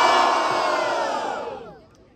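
Audience at a street rap battle (Batalha da Leste) roaring and shouting in support of a rapper, a loud dense crowd noise that holds steady and then fades out toward the end.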